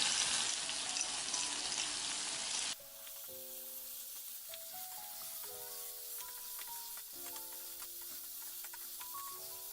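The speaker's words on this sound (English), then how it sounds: "Okay, right now stir fried eggplant is ready." Grilled eggplant stir-fries in a pan with a loud, bright sizzle for a few seconds, then cuts off abruptly into quiet melodic music.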